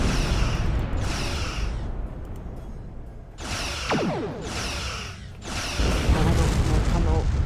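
Several heavy Star Trek Online spaceship weapon blasts, each a booming burst with a whining, descending tail, spaced a second or two apart.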